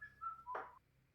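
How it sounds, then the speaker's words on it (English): One person whistling a short sliding tune, soft and near, a few drawn notes with a brighter burst in the middle, over a low quiet hum. "I'm whistling."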